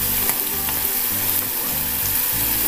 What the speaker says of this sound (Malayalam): ഇനി സവാള ഒന്ന് വഴറ്റി കൊടുക്കാം